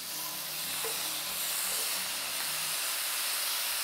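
Chopped bell peppers, onions, celery and minced garlic sizzle in a pot, giving a steady, close, even hiss of frying with no talking over it.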